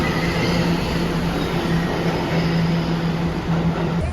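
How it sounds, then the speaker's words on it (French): A New York subway train rolls along inside the car, a loud, steady rumble of wheels on track with a continuous low hum and faint high whine, no voices heard. "Voilà le métro New York."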